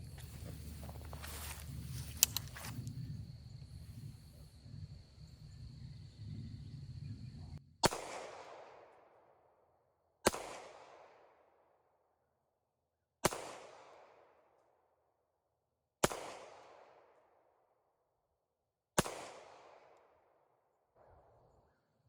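Five pistol shots from a Rock Island 1911, each a sharp loud crack with a ringing decay, spaced a few seconds apart outdoors, after a stretch of quiet handling noise and low rumble.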